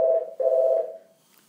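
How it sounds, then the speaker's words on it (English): A phone rings during a mobile game session, two sustained electronic tones close and clear, the second fading out, with no talk over them. "Oh, the phone's ringing."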